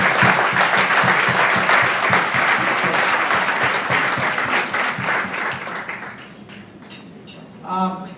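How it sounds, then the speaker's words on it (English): An awards ceremony audience applauds students for the CASE Competition, a loud, dense wash of clapping that fades over several seconds before a brief burst of voices near the end. "A round of applause for all of our great students."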